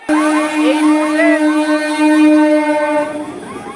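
A train passes the Baidyabati railway gate on the pilgrims' walk from Seoraphuli to Tarakeswar, carrying many pilgrims. A loud, sustained horn-like tone runs nearly throughout, with crowd voices mixed in.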